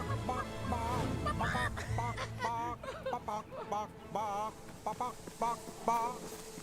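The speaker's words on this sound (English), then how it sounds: "Chickens?" Chickens in the Fable 3 game cluck and squawk in repeated bursts with honking, fowl-like calls, moderately loud over a busy, low background bed.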